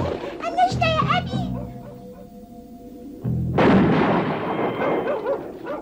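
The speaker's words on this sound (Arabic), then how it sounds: "كانت طلقة مميتة" In an animated cartoon, a single sharp gunshot bursts out after a stretch of yelping animal cries. Its noisy crack lingers loudly to the end.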